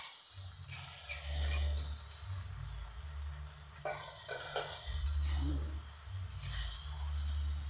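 Ground spice paste with other ingredients, including leftover tofu sambal, frying and being stirred in a pan for a tuna sour dish, giving a steady sizzle with scraping stirs that swell and fade.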